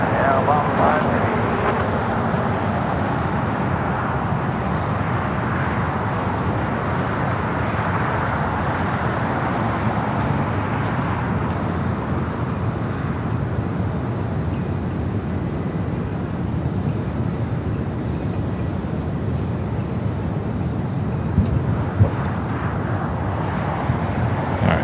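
An airliner, an A350, takes off from the south side of LAX airport. A steady, broad jet roar holds for the whole stretch under a voice talking.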